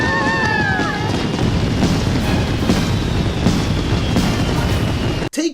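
Giant fireworks exploding over a crew's celebration in the One Piece anime, a dense continuous roar of booms and crackle with whistling rising tones at the start, loud and sustained before cutting off abruptly near the end.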